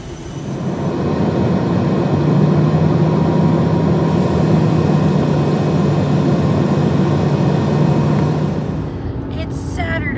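Steady, loud broadband roar of a jet airliner's engines heard from inside the cabin in flight, constant for about nine seconds before easing slightly.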